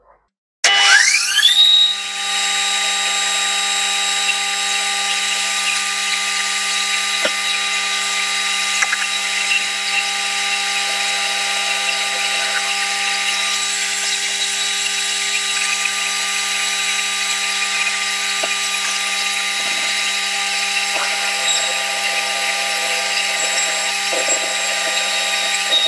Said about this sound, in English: let's do this one 13 mil hole coming up.